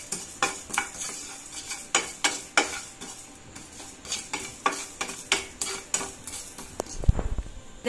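Fennel and coriander seeds roasting in a pan for onion chutney, heard as a steady run of scrapes and clinks from stirring, with a faint crackle beneath and a louder knock near the end, close by and without talk.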